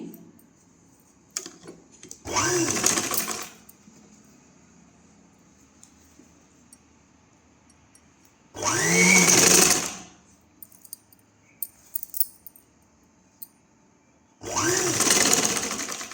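A sewing machine stitching tucks at the shoulder of a long umbrella frock runs in three loud, close bursts of rapid whirring, separated by quiet pauses with light clicks and handling noises.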